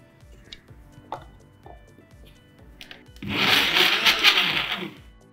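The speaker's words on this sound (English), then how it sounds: "now we'll give this a quick blend" After a few light knocks and taps, a blender whirs loudly and steadily, close by, through a mashed vegetable mixture for vegan shepherd's pie, seasoned with Himalayan pink salt and pepper, for about two seconds.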